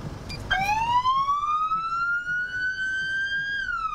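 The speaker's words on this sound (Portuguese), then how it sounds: "Toca aqui a sirene para o tio ver" A Brazilian federal highway police car's siren switches on after a short click and holds a loud, steady rising wail for several seconds, then dips slightly at the end.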